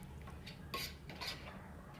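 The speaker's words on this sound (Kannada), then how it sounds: "ಒಂದು ಸರಿ ಚೆನ್ನಾಗಿ ಈ ಥರ ಮಿಕ್ಸ್ ಮಾಡಿಕೊಂಡು" Yogurt-marinated chicken is mixed in a metal cooking pot, a spoon scraping and clinking against the sides in a couple of sharper knocks over steady stirring noise, with no voices.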